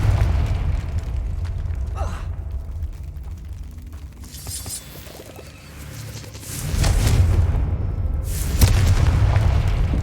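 A Confringo spell in Hogwarts Legacy bursts into heavy booming explosions, with a loud blast near the start and a longer rumbling burst in the second half, quieter effects in between.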